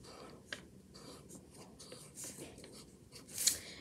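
A black marker squeaks and scratches across paper while drawing keys on an origami piano: soft, irregular strokes, close and quiet, with one brighter squeak near the end.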